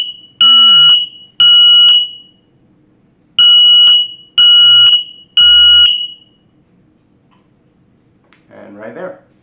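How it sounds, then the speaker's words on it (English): Five loud electronic alarm beeps from an X-Sense smoke and CO detector being tested, in a broken rhythm, each a piercing high tone lasting about half a second, followed later by a brief faint rustle. "you can just test it right here and it beeps"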